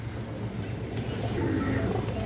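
High-flying pigeons coo softly nearby in a low, throaty rolling murmur that carries on for a couple of seconds.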